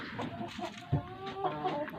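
Close Brahma rooster clucking and short throaty calls, a brief burst of fowl vocalizing with no talking.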